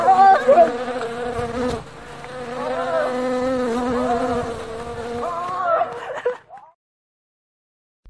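A loud, steady buzzing drone with a wavering pitch, like bees or wasps, sounds as a voice imitates it during a first-aid skit about stings. It runs for about six seconds and then cuts off into silence.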